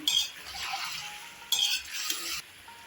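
Peas added to a pan of potatoes and stirred: a faint, soft scraping and rustle of stirring in two brief bursts, with a light hiss in the background and no talk.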